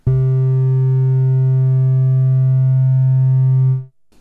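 A single steady synthesizer tone from two oscillators in tune, pure and even with no wavering or beating, holds for several seconds before cutting off.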